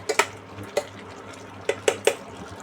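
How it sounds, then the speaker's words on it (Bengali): A spoon scrapes and knocks against a cooking pot of mixed vegetables for jalbora, several sharp clinks in uneven bursts, close and fairly quiet with no talk. "পাঁচ মিনিট পর তো এটার মধ্যে অনেকটাই জল বেরিয়ে গেছে আমরা একটু নেড়ে নিচ্ছি সবজিটাকে"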